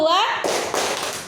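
A classroom of children doing a rhythmic clapping routine before a lesson: a few sharp, close claps in quick succession follow a short spoken prompt.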